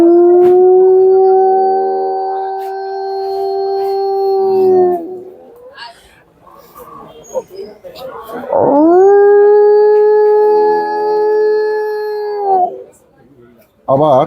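A voice imitates a dog howling late at night, drawing out two long, steady, mournful wails close up, with a short spoken word and breathy noises between them.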